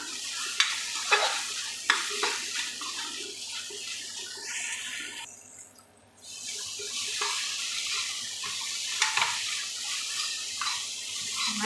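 Okra sautés in a pan with salt and turmeric for a spicy okra kara kuzhambu: a steady, close sizzle with repeated spatula scrapes and stirs and a short quieter lull midway. No one speaks.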